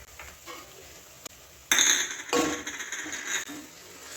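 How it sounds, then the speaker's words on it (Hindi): Whole spices and onion get stirred in a cooking pot for chicken yakhni pulao, with a spoon clinking and scraping against the metal in a few brief bursts, mostly quiet with a louder stretch in the middle. "अब इन सभी मसालों को प्याज के साथ 5-10 सेकंड तक हल्का सा चलाते हुए भून लें"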